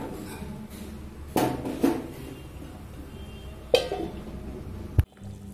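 A metal lid clatters onto a cooking pot in a home kitchen with a few sharp clinks and knocks, the last one loudest, over a low background hum and no talking.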